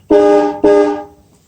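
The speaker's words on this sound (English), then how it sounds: "Both of them are honking." The dual horns of a 1965 Ford Mustang blare twice in quick succession, each a loud, close, brassy honk that fades briefly after the second blast.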